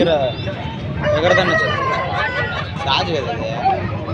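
A Tamil Nadu breed rooster crows over a busy background of chatter and crowd noise at the Rayachoti weekly market in Kadapa district, the call rising and falling amid the babble.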